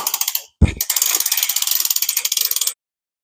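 A hand crank on a log splitter ratchets in a quick run of sharp, evenly spaced clicks, close and clear, with one heavier knock near the start before the clicking stops.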